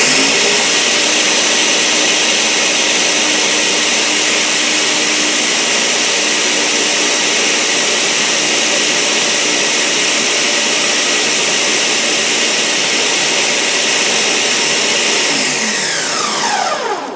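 An electric mixer runs nonstop at high speed, blending no-carb bread dough with a loud, steady whirring drone close up that winds down at the very end, no talking.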